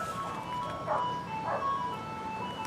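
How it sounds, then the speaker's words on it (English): A tinkling ice cream truck jingle plays faintly in the distance, a looping melody over steady background hum. "we hear the ice cream truck in the background."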